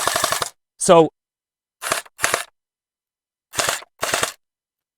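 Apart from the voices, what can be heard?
automatic gel water ball toy gun rapid firing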